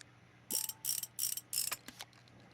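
A bolt being removed from a clutch assembly cover in Motorcycle Mechanic Simulator, four quick bursts of ratcheting wrench clicks followed by a couple of short clicks, close and clean with no voices.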